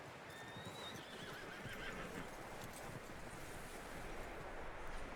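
A skittish horse in the video game Red Dead Redemption 2 whinnies faintly beneath a steady, noisy wash of wind-like ambience, with a brief high neigh early on and no talking.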